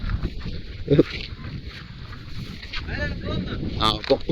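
Steady wind gusting across the open water and grounds of Chittar dam in Kanyakumari, a broad continuous rush with microphone buffeting, loud and close, while people talk over it.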